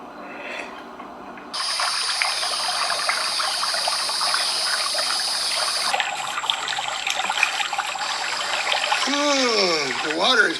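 Water trickles and splashes steadily for most of the stretch, fairly close and even, with a high tone running over it and a swooping whistle-like sound near the end.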